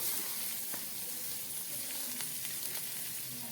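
Cucumber pieces go into a pan of cabbage and other vegetables already frying, giving a steady close sizzle with a few light scrapes and taps.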